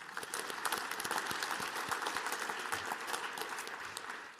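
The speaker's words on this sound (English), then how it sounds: "Let's give them all a round of applause." An outdoor crowd at a tribal and state broadband launch applauds the Bishop-Paiute tribe, sustained even clapping from many hands that tapers slightly at the end.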